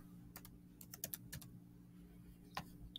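Quiet keystrokes tap on a computer keyboard, a short irregular run of light clicks, close and faint over a low steady hum, with no voices.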